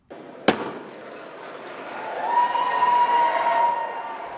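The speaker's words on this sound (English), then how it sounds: "survivors of Jeffrey Epstein's abuse watching and cheering from the gallery above" Cheering and applause build in the House gallery after a vote, rising into a sustained wash of crowd noise over a few seconds, heard from a distance after a sharp bang at the start.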